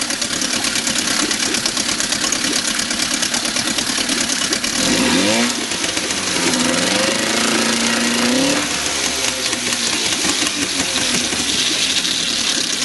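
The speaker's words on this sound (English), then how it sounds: "I'm going to rev her up a little bit" A steady, loud drone from an original 1956 Scott-Atwater 7.5 HP outboard motor, with the pitch climbing and dipping in a couple of brief revs midway before settling back.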